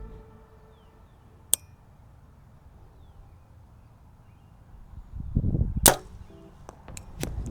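Arrows are shot from a bow at a target outdoors. Sharp, isolated snaps and thwacks come with a low rumble of movement before one of them, and a couple of quicker cracks follow near the end.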